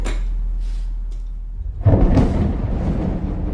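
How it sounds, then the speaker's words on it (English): Thunder rumbling during a raging storm at night in an apartment, a deep low roll swelling up after a quieter lead-in and sustaining to the end, no voices. "As the thunder strikes"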